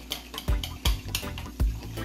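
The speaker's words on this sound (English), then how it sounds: "I'm gonna muddle the mint and the sugar together." Rhythmic pressing and grinding thuds as mint and sugar are muddled in a glass, about five firm strokes with light clinking between, close up.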